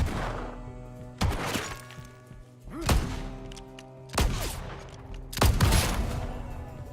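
Buffalo gun shots in the western survival video game Legend of California, four loud booming blasts spaced roughly a second or more apart, each trailing off in a rumbling echo over quiet background ambience.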